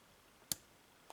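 A single sharp, faint click as a pin sets while picking a TESA TX80 lock, with a softer tick following a moment later in near silence.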